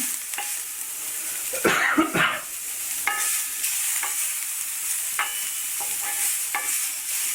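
Onions frying lightly in a pan for an omelette, a soft steady sizzle broken by scraping stirs and a few sharper clicks of a spatula, close and moderately loud with no talking.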